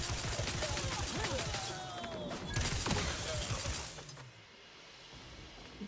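In The Outer Worlds 2, a dense burst of rapid gunfire rattles with crackling, shattering impacts mixed in, then thins out and fades to quieter background noise near the end.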